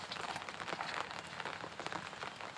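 Light, steady rain patters over a fruit garden with grape, orange, dragon fruit and pomegranate plants, a continuous soft hiss of drops with scattered sharper taps, close and even throughout, with no one speaking.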